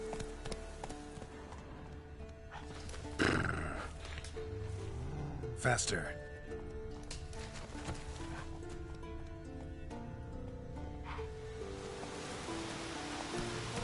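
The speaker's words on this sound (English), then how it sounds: "That's his horse" Horse hooves clip-clop steadily under rain-like ambient noise in The Witcher 3, with someone speaking over the game sounds.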